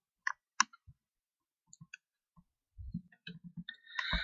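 Several sharp, small tactile switch clicks from an Arduino LED dice circuit come in irregular bursts, some single and some doubled, with soft handling taps between them.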